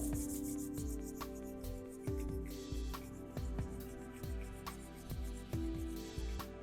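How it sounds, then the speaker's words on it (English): Two palms rub briskly against each other during a yoga session, a close, dry, rhythmic swishing with a stroke roughly every half second and no voices. "Rub your palms on each other."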